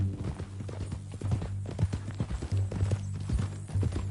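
Horse hooves clip-clop at an easy walking rhythm in Red Dead Redemption II, close and clear, with a steady low hum underneath.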